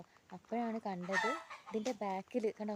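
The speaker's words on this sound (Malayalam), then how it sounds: "കോഴി കരയുന്നു കേട്ടോ" A chicken clucks and calls close by in short, repeated bursts, while a person talks over it.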